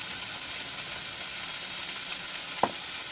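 Butter melts in a pan for a burger bun inside a van, giving a steady close sizzle and crackle with a single sharp scrape or clink near the end.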